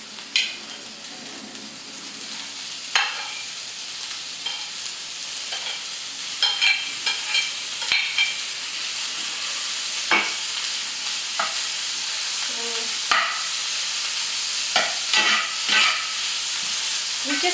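Steak slices sautéing in a hot pan for a beef stir fry with green beans, a steady sizzle broken by frequent spatula scrapes and clacks against the pan, close and clear.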